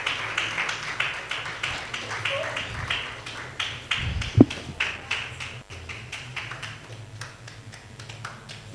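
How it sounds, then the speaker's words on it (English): Audience at a women's empowerment conference clapping steadily while speakers walk to the podium, a dense patter of many hands with a few sharper claps standing out and some crowd noise underneath. "You can keep clapping till they come."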